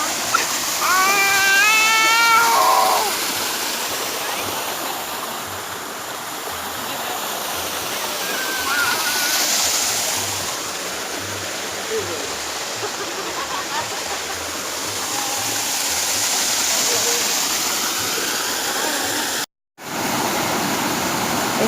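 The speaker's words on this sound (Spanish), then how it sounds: "Estamos en la parte supuestamente de la cascada de 60 metros" A 60-metre waterfall at Bucay gives off a steady, full roar of falling water. A short voice rises over it at the start, and there is a brief dropout near the end.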